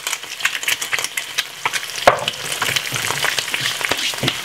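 A Jamaican fried egg sizzles steadily in butter in a pan, with close, irregular stirring scrapes and taps over a constant frying hiss.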